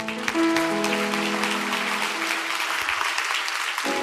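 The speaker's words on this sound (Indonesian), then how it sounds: "Gereja, kasih tepuk tangan untuk Tuhan Yesus" A church congregation claps during a sermon, steady applause throughout with sustained organ or keyboard notes sounding underneath.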